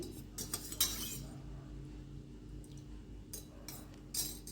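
A metal spoon stirring lemon tea in a cup, with soft clinks against the glass at the start and again near the end over a quiet background hum.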